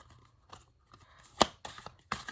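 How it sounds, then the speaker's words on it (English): Stiff oracle cards are shuffled by hand with short papery riffles, snaps and scrapes, one sharp crack standing out. Close and irregular, with no talking. "These cards are very hard to shuffle"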